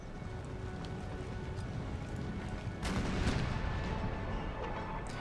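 Enemy artillery firing in an Empire: Total War American Civil War mod battle, steady rumbling cannon fire with a louder burst of booms near the middle, over a dense battlefield din.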